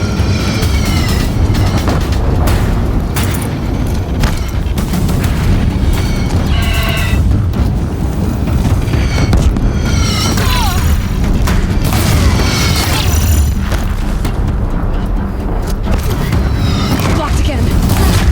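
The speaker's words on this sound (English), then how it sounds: "If the Deathbringers keep firing" Deathbringer war machines in Horizon Zero Dawn pounding a bridge with heavy fire, a dense continuous barrage of booms and blasts with rapid repeated impacts throughout.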